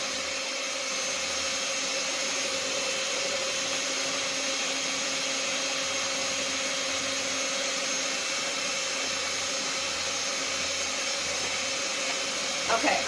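A mixer whirs steadily through jelly donut dough, a continuous loud motor drone with faint periodic thumps from the bowl, alone without talk.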